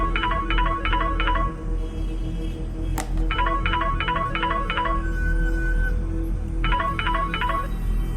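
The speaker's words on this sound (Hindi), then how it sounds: "तभी अचानक ही नक्श का मोबाइल बज उठा।" A mobile phone ringing, a repeating electronic ringtone in short rapid trill bursts grouped in sets, sounding three times, clear and close over a faint background hum.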